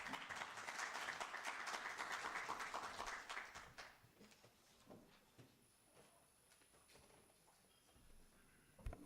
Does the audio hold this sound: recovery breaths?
no